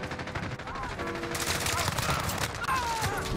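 A P90 submachine gun fires in rapid bursts in Call of Duty Modern Warfare multiplayer, with dense gunfire crackling over game background noise.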